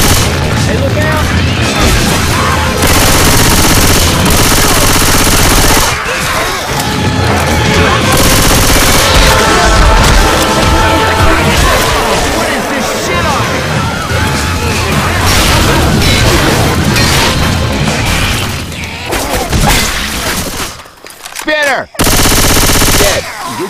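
Dense, loud machine-gun fire and heavy gunshots from Left 4 Dead 2 in the Swamp Fever campaign, with frag-round blasts and near-constant bursts for about twenty seconds, briefly dropping out near the end, with voices mixed in.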